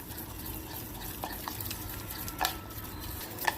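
Paneer bhurji with curd and milk is stirred in a pan, giving faint, soft scrapes and an occasional light clink of a utensil over a low, steady background hiss.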